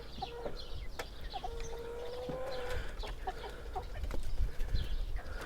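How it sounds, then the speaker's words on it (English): Chickens clucking and a rooster calling nearby outdoors on a hot day at a greenhouse property, with scattered bird calls and some low rumbling background noise. "Oh, there's the rooster."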